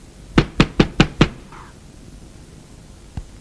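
Five sharp, evenly spaced knocks on a door ring out close and loud, followed by a quiet pause and one last faint tap.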